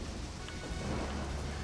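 Steady rain hisses and a low thunder rumble rolls through a stormy scene in the video game Deadly Premonition, a dense, continuous wash of weather with no voices.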